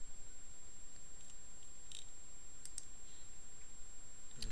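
A few sharp, faint computer mouse clicks, spaced irregularly, while uploading a WordPress theme, over a quiet hiss with no talking.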